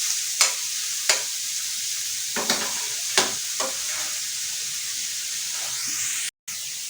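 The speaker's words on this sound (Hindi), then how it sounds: "हमारा कीमा जो है पकने के प्रोसेस में तैयार हो रहा है।" Keema, minced meat, fries on a tawa with a steady bright sizzle, punctuated by several sharp scraping stirs of a spatula; close and moderately loud, no voices, with a brief dropout near the end.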